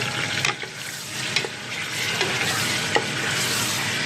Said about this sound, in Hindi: इसमें हमने ये चिकन डाल देना है। चिकन को हम थोड़ा सा फ्राई करेंगे।